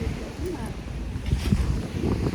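Wind buffets the microphone on a beach while waves wash in the background, a steady blustery rush with faint low surf and occasional gusts swelling louder.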